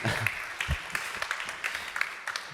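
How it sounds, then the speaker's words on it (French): Applause for speakers on stage at a regional low-carbon strategy conference, a moderate crowd clapping with distinct individual claps standing out, faint speech mixed in. "oui on peut les applaudir"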